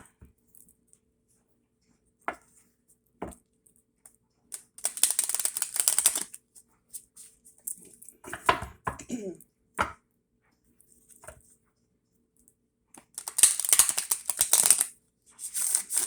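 Quick riffling bursts of a tarot-style deck of personal power cards being shuffled, two main flurries separated by scattered soft taps and handling noises, fairly close.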